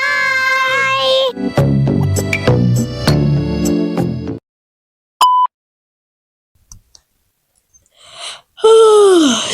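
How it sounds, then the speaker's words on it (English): A long, drawn-out yawn sinks in pitch at the very end. It comes after loud music, a stretch of near silence and a single brief beep. "Sorry, it's yawn."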